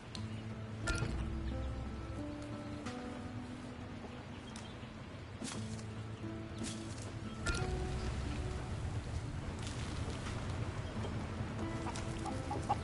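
Chickens cluck in the farming survival game Surviving the Aftermath, with repeated short clucks and game sounds over a steady background bed, with no talk.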